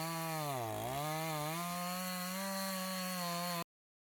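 A 52cc clone chainsaw fitted with an upgraded carburetor runs steadily and loudly close by, dipping briefly in pitch early on before settling into a sustained high idle-to-rev drone, then cutting off abruptly.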